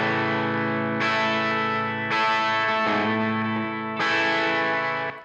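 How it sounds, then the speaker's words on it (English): Electric guitar through a Guitar Rig Marshall Super Lead emulation on a less distorted tone, sustained chords played loud and alone, changing about every second with a lightly crunchy, effected ring. "Got the Marshall Super Lead emulation going on. I've got two different tones dialed in. This is my less distorted tone."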